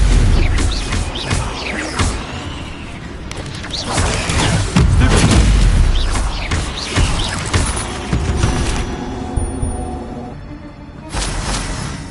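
Incendio fire spell cast in the Hogwarts Legacy video game, a loud burst of whooshing flame and booming, crackling impacts that swell and fade over several seconds amid game sound effects.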